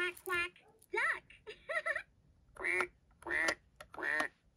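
A Fisher-Price Laugh and Learn toy piano plays a duck sound, a series of electronic quacks in short bursts with pauses between them. The quacks are clear and close, with no other sounds competing.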